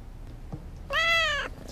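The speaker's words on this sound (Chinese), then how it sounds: "猫毛会引发过敏，麻烦你代为照顾猫咪。" A domestic cat lets out one clear, drawn-out meow close by in a quiet indoor room.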